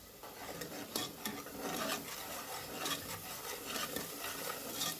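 A spoon scrapes and stirs a masala paste of chili powder, coriander powder, turmeric and salt as it fries in oil in a pan. The close, rhythmic rasping strokes run over a light sizzle.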